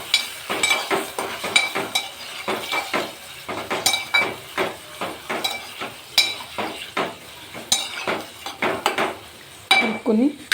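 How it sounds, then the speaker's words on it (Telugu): Chicken liver is stirred in hot oil in a pan for an Andhra-style fry, with repeated metallic scrapes and clinks of a spoon against the pan over a soft sizzle, close and fairly quiet, with no talk. "ఆయిల్లో వేసుకుని ఒకసారి మంచిగా కలుపుకోండి"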